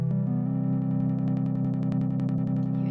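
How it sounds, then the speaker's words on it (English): Moog Matriarch synthesizer drones loudly with a sawtooth-wave modulation that adds rhythmic, sharp-edged pulses speeding up over the sustained tone, no voices present. "And then we've got the sawtooth wave."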